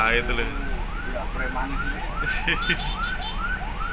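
An ambulance siren wails behind a bus, sweeping up and down repeatedly in a fast cycle, fairly close, while people talk over it and traffic noise fills the background.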